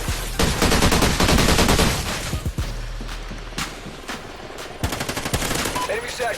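Gunfire in Call of Duty Ghosts multiplayer, loud rapid bursts of automatic fire and single sharp shots, broken by brief pauses, with game effects and faint voices underneath.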